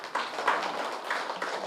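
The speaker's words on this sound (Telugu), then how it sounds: "అది గట్టిగా చప్పట్లు కొడదాం." A gathering audience clapping together at a large group meeting, a dense, steady patter of many hands filling the room without pause, moderately loud and close.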